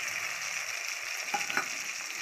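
Marinated crab frying in hot oil in a wok for a spicy crab curry, a steady bright sizzle with a few louder pops and spatters near the end, close and moderately loud with no talk.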